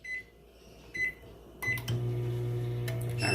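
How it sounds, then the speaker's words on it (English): A kitchen microwave oven is opened and set running: a few short beeps, a click of the door, then a steady low hum that fills the rest of the moment, close and fairly loud with no talk. "Let me just get into the microwave here."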